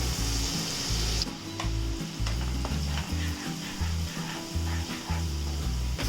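Chopped garlic sizzles steadily in hot oil for a Schezwan sauce, a loud continuous frying crackle with stirring scrapes, while a rhythmic low thumping runs underneath throughout.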